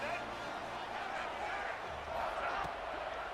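Loud sold-out stadium crowd at a Purdue Boilermakers college football game, a broad continuous roar of cheering fans that swells slightly, with a commentator talking over it.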